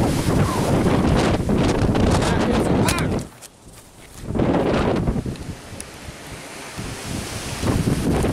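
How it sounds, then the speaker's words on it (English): Strong wind buffets the microphone in a loud, roaring rumble that briefly eases partway through, then returns. "Wow, it's a windy day out today."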